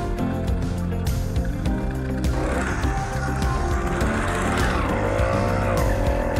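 Small engine of a motorized bicycle idling and running steadily while still warming up, a continuous buzzing drone with slight rises in pitch, close and fairly loud.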